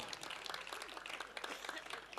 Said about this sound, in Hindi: आपको विश्वास हो तो ताली बजा देना